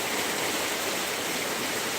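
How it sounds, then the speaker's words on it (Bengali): Heavy torrential monsoon rain from a low-pressure system at Bhangura market in Pabna, a dense, loud, unbroken roar of downpour with no voices. "মুকুলধারের বৃষ্টি হচ্ছে প্রবল বর্ষণ যাকে বলে প্রবল বর্ষণ হচ্ছে"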